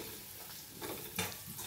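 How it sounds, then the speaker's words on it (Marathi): Onion with a little salt and finely chopped carrot sauté in a pan, a soft sizzle under quiet scraping stirs that swell briefly a couple of times. "आणि हे सगळं आपण परतून घेणार आहोत."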